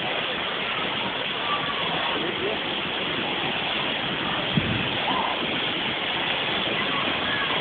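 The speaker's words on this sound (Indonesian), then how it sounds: "Ini air terjun Desa Renang Sungai Puh." Steady broadband rush of the waterfall at Renah Sungai Ipuh, Limbur, a tall fall in a village setting, roaring continuously and fairly close for the whole stretch with one brief knock midway.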